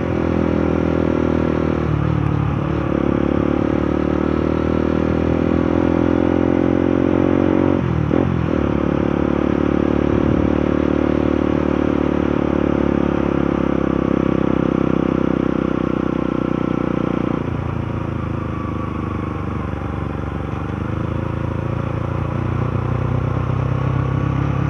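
A motorcycle engine drones steadily and loudly for a long stretch, labouring uphill on a road in Sorsogon, Philippines, with shifts in pitch and occasional rattles, with no talking.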